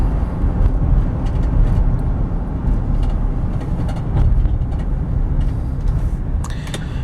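Interior rumble of a 2011 Chevrolet Silverado 1500 LTZ pickup slowing to a stop under braking, a broad low road noise that fluctuates and eases slightly, with light clicks and rattles, no talking.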